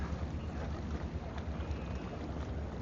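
Steady wind gusts rush past a small boat while fishing over rocky bottom off the Florida coast, a continuous broadband roar with low rumbling buffeting the microphone and no talk.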